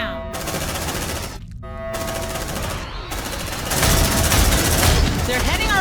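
Rapid automatic gunfire rattles in the video game Aliens: Dark Descent, continuous and loud with brief gaps, while voices call out over the shooting.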